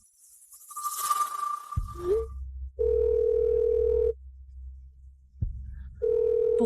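A telephone call goes unanswered, ringing back with long, steady electronic tones separated by a quiet gap, after a brief rustle and a soft thump at the start.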